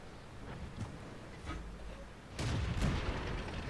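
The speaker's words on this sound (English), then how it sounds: "And that shot goes a little bit long." An SU-26 tier 3 tank gun firing in World of Tanks: a single loud booming shot lands about two-thirds of the way through, with a second blast close after it, over low ambient game rumble.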